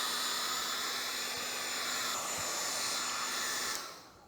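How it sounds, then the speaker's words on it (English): A hair dryer drying a painted clay model blows with a steady high-pitched whirring roar, running continuously before being switched off near the end. "hairdryer. We'll dry it a little bit."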